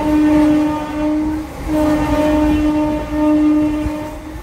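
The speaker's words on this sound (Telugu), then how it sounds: "5 minutes హాల్ట్ తర్వాత గరుడబిల్లి నుంచి మన ట్రైన్ అయితే స్టార్ట్ అయిపోయింది." A Visakhapatnam–Parvatipuram MEMU Express train pulls away from Garudabilli station after a five-minute halt. A loud, steady engine drone carries a sustained tonal hum that swells and dips in three long waves, with no voices.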